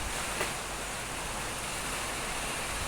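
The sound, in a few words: heavy rain pouring outside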